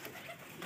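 A pair of foreign fancy pigeons from Murshidabad coo softly in a brief, close murmur with faint background noise.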